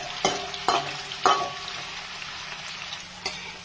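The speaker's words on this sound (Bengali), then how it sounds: "এই তেলের মধ্যে আমি আলুগুলো ভেজে নেব" Potatoes fry in hot oil in a pan for a fish curry, a steady close sizzle punctuated by three or four sharp stirring clatters near the start.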